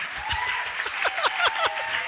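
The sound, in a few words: congregation applauding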